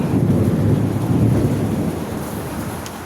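Rain and rolling thunder in an Indian bike driving video game, a dense low rumble with steady hiss that fades slightly toward the end, with no voices.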